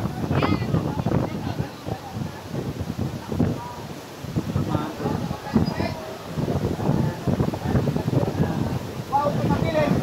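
Strong wind buffets the microphone on a boat at sea off Boracay Island, a constant rough roar that runs the whole time under people talking close by.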